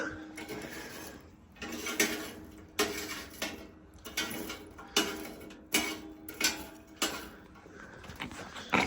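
A metal tool scrapes leftover pieces out of a wood gasification wood stove, making a steady series of about a dozen short, clinking metallic scrapes, each less than a second apart, close and fairly quiet with no talking.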